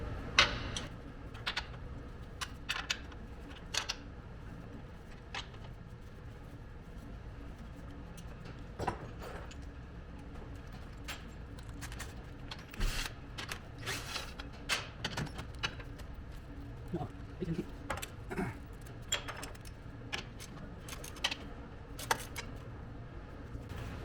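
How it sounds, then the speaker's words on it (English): A 17mm socket wrench loosening the bolts on the factory skid plate crossbars of a Toyota Tacoma, heard as a rapid series of close ratchet clicks and metallic ticks in bursts, with occasional clunks of tools and parts. "get our 17mm socket and break off these OEM crossbars here"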